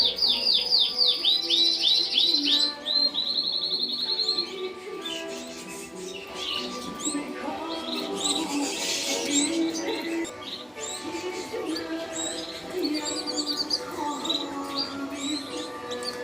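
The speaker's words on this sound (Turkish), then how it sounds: "burada 4-5 çeşit kuş var." Many canaries and other small birds, four or five kinds, chirp and twitter continuously, bright overlapping calls and trills filling the space, some louder bursts early on, with no talking.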